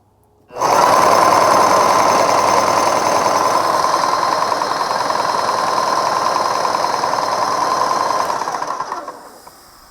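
A rebuilt Graco airless paint sprayer starts up and runs steadily with a loud, continuous mechanical buzz and hum for about eight seconds, then winds down near the end, with no talking.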